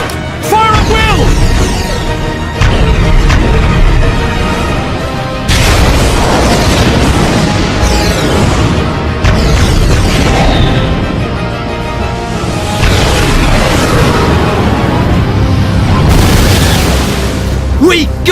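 Booming explosions and bursts of gunfire erupt in a Xenoblade Chronicles battle cutscene as a colony comes under attack, loud and continuous with heavy low rumble, mixed with shouted voices and orchestral score.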